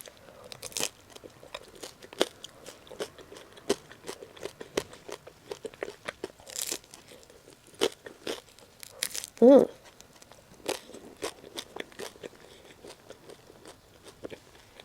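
Crunchy bites and chewing of apricot with cream cheese come in close, scattered bursts, with a few crinkling sounds and a speaking voice in between.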